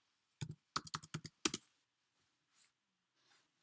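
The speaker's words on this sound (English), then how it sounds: "I'm going to go online, and I'm just going to type in Facebook." A short burst of quick keystrokes on a computer keyboard, about seven crisp clicks close by, followed by quiet and two faint soft taps.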